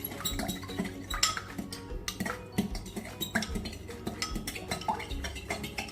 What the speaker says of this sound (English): Whisk that egg up in there.